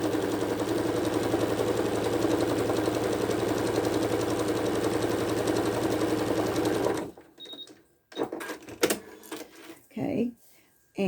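A sewing machine stitching a quilt along a diagonal line runs loud and steady at close range for about seven seconds, then stops, leaving a few light clicks and handling noises.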